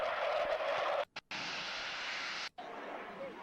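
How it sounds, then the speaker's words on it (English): A Su-27 jet performs a flying display at Waddington, heard as a steady distant roar of jet engine noise with a grainy, hissy tape quality, cut by two brief dropouts of near silence. "The SU-27, fabulous display."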